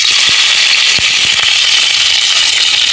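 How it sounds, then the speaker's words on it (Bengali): Chopped onion and chili hitting hot oil in a village kitchen wok, a dense continuous sizzle with scattered sharp crackles and pops, close and loud with no talking. "এখন আমি পেঁয়াজ কুচি আর মরিচ কুচি ঢেলে দেবো তেলের মধ্যে।"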